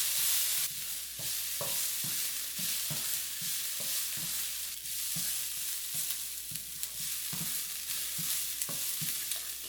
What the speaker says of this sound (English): Next, we're going to cook a 1/4 cup of finely chopped up shallots.